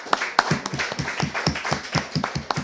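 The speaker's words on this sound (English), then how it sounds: "applause is applause" Scattered handclaps from a small crowd at a Barbados Labour Party branch meeting in St Michael West Central, a steady run of sharp, close claps lasting a few seconds at moderate loudness.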